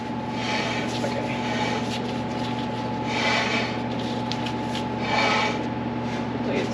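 A part on a 1958 Maxim tiller rubbing as it runs: steady low engine drone with a scraping, rasping rub that swells in periodic waves about every two seconds, close and loud.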